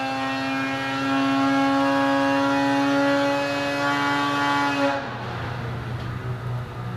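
A 2020 Cat Alpha Riot snowmobile engine with a Bikeman Stage 2 setup runs on a dyno. A loud steady high-revving tone holds, then cuts off sharply and drops to a low idle rumble.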